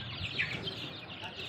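Sonali desi chickens on a poultry farm in Kishanganj, Bihar give brief, soft clucks under a man's spoken greeting.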